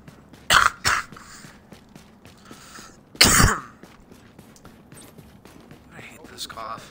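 Harsh, loud coughs from a person playing Tom Clancy's The Division: two quick coughs followed by a heavier one a few seconds later, over quiet game ambience.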